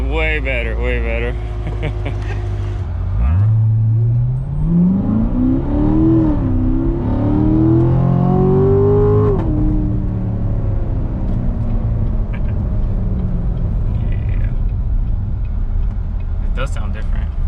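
A 2019 Corvette C7 Grand Sport with a Borla X-pipe and secondary cat delete revs hard, its exhaust note rising in a long sweep and then settling, with people talking over it nearby.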